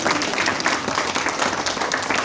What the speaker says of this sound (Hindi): एक बार तालियां आप सब अपने लिए।